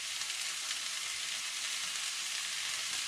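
Seafood and vegetables sizzling in a stir-fry pan, a constant bright hissing crackle close up, steady and even throughout with no talking.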